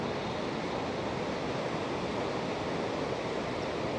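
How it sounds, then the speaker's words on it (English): Ocean waves on a beach on a fine day, a continuous, even wash of surf noise with no distinct breaks, heard at a moderate distance and alone. "Listen to the ocean."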